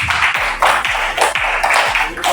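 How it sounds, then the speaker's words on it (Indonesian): A group in a teachers' coaching session claps in unison, loud rhythmic claps in repeated bursts with short gaps, close to the microphone. "Tepuk tangan untuk semuanya"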